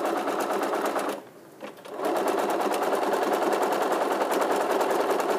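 Sewing machine stitching a quilted fabric bowl made from 1.5-inch strips, running in a fast steady buzz with a brief pause near the start before resuming continuously, close and loud.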